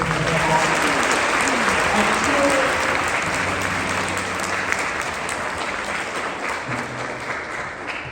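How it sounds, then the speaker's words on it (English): A school band festival audience applauds the beginning band, with sustained, even clapping that fills the hall for about eight seconds and faint voices beneath. "One more round of applause for them being able to put together"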